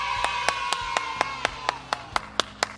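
Rhythmic clapping at a worship gathering praising God, sharp evenly spaced claps about four per second over a sustained background tone, no voices.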